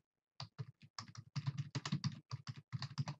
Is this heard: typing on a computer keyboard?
yes